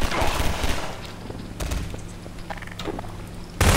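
Gunshots in the video game Half-Life 2, scattered sharp shots amid game noise, ending in a loud burst at the close.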